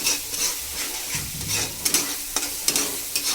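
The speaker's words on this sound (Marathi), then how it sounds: "चांगला मसाला परतून घ्यायचा, म्हणजे भाजी छान होती।" A ginger, garlic and coriander masala paste for a fish dish fries in a pan, giving a loud, close sizzle broken by quick repeated stirring scrapes.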